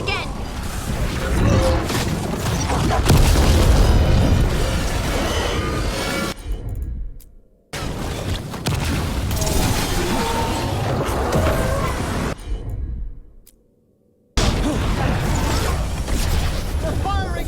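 Combat in Dragon Age: The Veilguard with enemy fire and explosions: dense, loud clatter, bursts and whooshes filling long stretches, broken by two short near-silent gaps, with voices speaking at times over the action.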